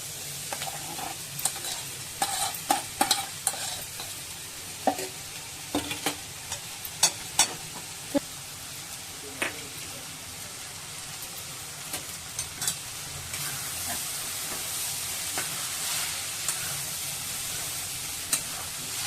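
Cooked rice being stir-fried in a pan for phodnicha bhaat, a steady sizzle broken by repeated scraping and clacking strokes of a spoon, close and clear with no voices.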